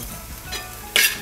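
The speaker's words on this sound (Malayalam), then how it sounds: "ഈ സമയത്ത് നമ്മൾ ആദ്യമേ വറുത്തു കോരി ഇതും കൂടി ഇട്ട് മിക്സ് ചെയ്തെടുക്കുക." Roasted coconut and spices for a Kerala-style varutharacha chicken curry are stirred in a pan, giving a brief close scrape and soft sizzle, then one sharper spoon-on-pan scrape near the end.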